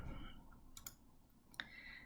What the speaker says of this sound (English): I'm just typing in ln on the keyboard